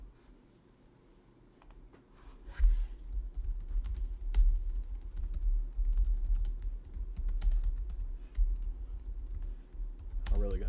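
Steady typing on a computer keyboard, close and fairly quiet, with fast, irregular key clicks running continuously over a low background rumble.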